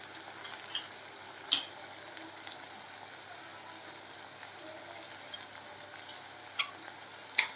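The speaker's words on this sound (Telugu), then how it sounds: "అప్పుడు ఉల్లిపాయ బాగా పచ్చివాసన పోయి బాగా ఫ్రై అవుతుంది." Onions fry in a pan over a medium flame with a soft, steady sizzle, close but quiet, broken by a few faint scrapes of a spoon against the pan.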